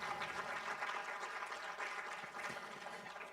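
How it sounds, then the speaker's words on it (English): Faint, steady applause from an audience at a film discussion event, crowded clapping sustained throughout at low level with no voices. "don't let me forget to give our team members and the volunteers a hand clap as well for the work that they do"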